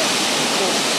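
The Kapedo waterfall in the North Rift roars and bubbles as a loud, steady wash of rushing water that fills the whole moment without a break.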